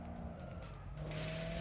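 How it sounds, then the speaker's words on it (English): A car in the video game Dead Rising Deluxe Remaster roars with a steady engine drone and rising tire skid as it is rammed in a tunnel, loud and continuous, with no talking. "Carlito came barreling down the tunnel, T-boning me against the wall"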